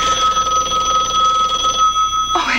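Telephone bell ringing loudly and continuously close by in an indoor room, a sustained metallic trill that cuts off near the end, with no speech.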